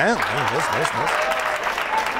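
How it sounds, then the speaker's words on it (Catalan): Studio audience of a Catalan spelling quiz show clapping for a contestant, while a host's voice calls out over the applause with rising, sing-song intonation at the start. "Aplaudiu, aplaudiu, home, que ho ha fet molt bé."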